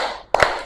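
Hands clap in a classroom clapping routine: a quick, sharp double clap, loud and close, over a soft background murmur.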